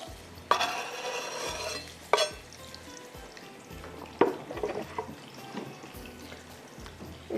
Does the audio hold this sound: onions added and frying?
yes